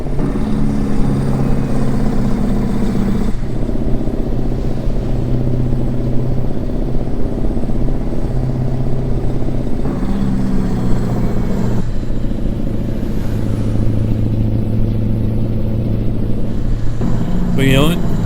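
A Mack Ultraliner truck engine in American Truck Simulator drones and revs through several gear changes, steady mid-pitched rumble rising and dropping, with a voice talking over it.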